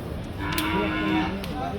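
An Indian bullock moos at a busy cattle market, one short, clear low call rising out of the crowd noise at moderate distance.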